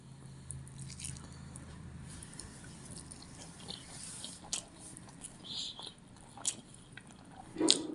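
Someone quietly chews fried tilapia fish at close range, soft wet squishing bites scattered irregularly over several seconds, growing a little louder near the end, with no talk.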